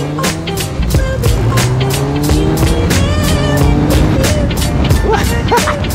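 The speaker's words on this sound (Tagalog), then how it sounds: "galit na itong makina ni Bluey" A motorcycle engine revs hard and high, its pitch climbing and falling repeatedly with sharp squeals, loud and close.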